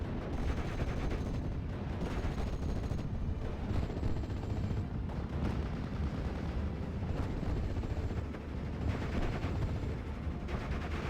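Gunfire from a Sherman tank strafing a machine-gun team in a World War II strategy game, heard as a dense, continuous roar of rapid shots and rumbling impacts that never lets up, moderately faint throughout.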